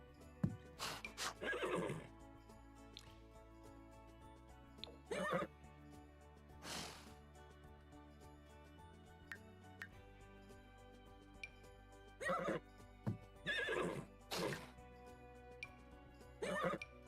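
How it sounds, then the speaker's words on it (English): A horse in a farming video game whinnies several times in separate bursts, fairly near and loud, with faint hoof clip-clops and quiet background sounds between the calls. "That's a pretty horse."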